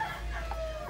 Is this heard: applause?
no